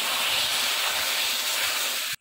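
Water hits a hot pan of hilsa fish curry with radish, potato and aubergine, bursting into a loud, steady sizzling hiss of steam that cuts off abruptly after about two seconds.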